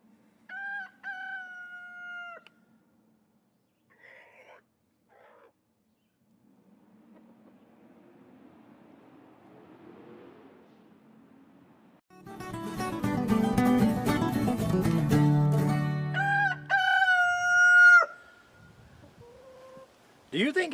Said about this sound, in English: I've got roosters in the background